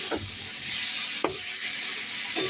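Okra cooking in a pan over a very low gas flame gives off a soft, steady sizzle, with a few sharp clicks as it is stirred. There is no talking.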